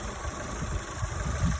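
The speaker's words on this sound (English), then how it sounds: "Gotta love the sound of that Ecotec 4-cylinder. Sounds pretty smooth, doesn't it, for a little engine?" A 2011 Chevrolet Aveo LT's Ecotec 4-cylinder engine idles close by with the hood open, a smooth, even low hum with no voices.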